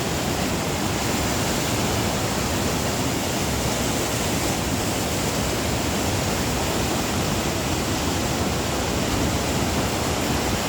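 Loud, steady roar of floodwater rushing down a swollen river fills the whole stretch, a dense continuous torrent with no pauses and no voices.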